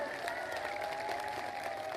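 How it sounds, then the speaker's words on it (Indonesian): An audience at a religious gathering applauds, steady crowd clapping and murmur with faint cheering, heard at moderate distance. "Tepuk tangan untuk BSI."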